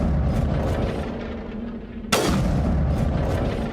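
Gunfire in Mass Effect Legendary Edition: dense, continuous booming shots with a sharp, louder burst partway through, steady and near throughout with no talk.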